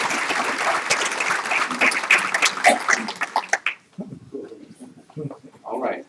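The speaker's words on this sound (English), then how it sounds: "One more round of applause for these guys." Board of education meeting audience applauding honorees, a few seconds of brisk clapping that ends abruptly, followed by scattered murmurs, a cough and light chatter in the room.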